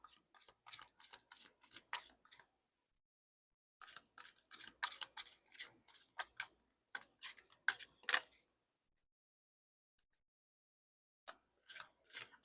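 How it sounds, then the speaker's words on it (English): An Atomic Cat tarot deck is shuffled in quick bursts of soft card flicks, close and quiet, with pauses of silence between the runs. "I'm going to shuffle it now."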